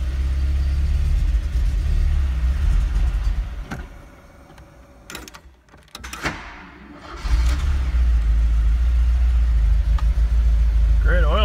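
A four-cylinder engine that has sat unused for a long time runs with a loud, steady low rumble, dips briefly as if a door or hood moves, then returns to full running; a voice talks nearby.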